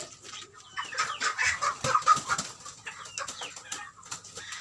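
Chickens cluck busily close by, a flock letting out overlapping bursts of short calls with some wing flapping mixed in.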